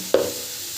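Fried soybean chunks in a hot pan hiss sharply as turmeric goes in, then settle into a steady, softer sizzle for the rest of the moment.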